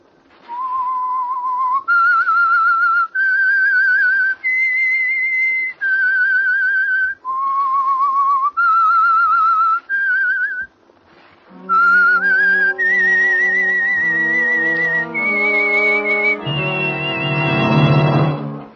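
A bright whistled theme tune of sustained held notes in short phrases, loud and close, opening the radio program The Whistler, swelling into a louder, fuller musical passage toward the end.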